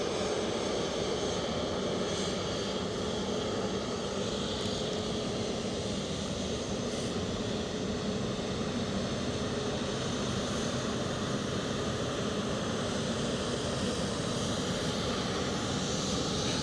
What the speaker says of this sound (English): 757-200, inbound from New York, Newark, is now on final approach.